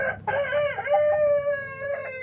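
A Colombian Light Brahma or Buff Brahma rooster crows once near the listener, a long, clear, tonal call with a rising and falling contour, over a faint low background hum.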